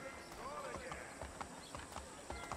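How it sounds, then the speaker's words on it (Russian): Horse hooves clip-clopping in the video game Assassin's Creed 3, a run of evenly spaced hoof thuds under game ambience while someone talks over it. "Вот она, моя лошадь."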